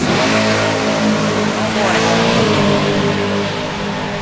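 A BMW M4 launches hard with wheelspin, its engine roaring loud and close in a sustained, rising howl under heavy throttle for the whole few seconds.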